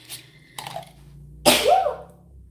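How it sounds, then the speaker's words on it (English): A single sharp sneeze bursts out near the mic, followed by a brief vocal exclamation, with quieter breathy sounds before it. "I'm sneezing."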